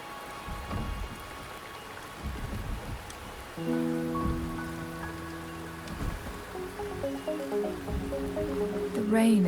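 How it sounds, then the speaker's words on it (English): Steady rain hisses across a scene in the video game Wuthering Waves, with scattered drop patter and low rumbles, while sustained musical tones rise beneath it partway through. "The rain is subsiding, and the sky will soon clear."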